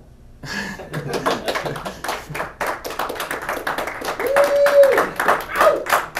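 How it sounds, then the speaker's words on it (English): A small meetup audience claps loudly after a Drupal presentation, with scattered, uneven hand claps heard nearby. Someone talks over the applause. "More boisterous clapping."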